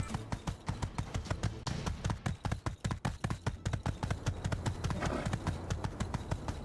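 Horse hooves in My Time at Sandrock: a brisk, even clip-clop of hoofbeats close by, repeating steadily on a hard surface for several seconds.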